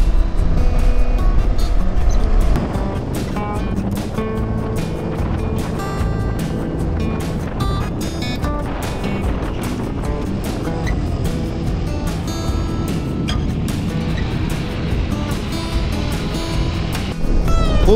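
Motorcycle ridden by a couple on highway 208 toward Agartala in northeast India, with a loud continuous engine drone and heavy wind rush throughout, unbroken and close.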